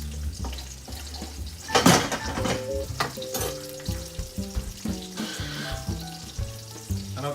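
Lemon and lime juice being stirred into a sizzling brown sugar glaze in a pan, steady close frying sizzle with a sharp hiss as the liquid goes in, then scraping stirs and light clinks of the pan.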